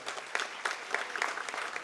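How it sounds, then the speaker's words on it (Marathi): An audience at a Mumbai government medical college event applauds in a brief, steady burst of many hands clapping close by. "याबद्दल सगळ्यांनी टाळ्या वाजवाव्यात"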